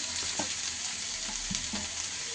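Spinach and potatoes fry in a pan with a steady, close sizzle, broken by a few soft scrapes and thuds from stirring.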